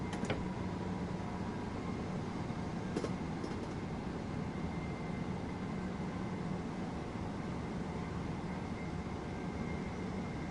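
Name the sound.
train running, Train Sim World 2 video game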